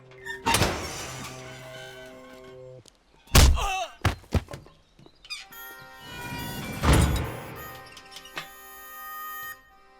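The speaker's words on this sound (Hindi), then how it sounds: "दरवाजा खोलो।" Heavy jail door in a police lockup being unlocked and swung open, heard as a few loud metallic thunks and clanks with creaking, spaced across the moment, with brief background voices and ambience.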